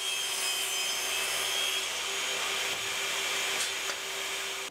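A table saw cuts a length of wood for a clamp rack, giving a steady, loud whining rasp of blade through timber that holds for nearly five seconds before tapering off at the end.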